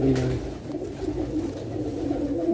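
Teddy pigeons coo in low, rolling murmurs, close and continuous over a steady background hum.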